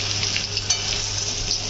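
Sesame seeds and green chillies sizzle steadily in hot oil, a dense crackling spatter with a few sharper pops, close and fairly loud, no voices.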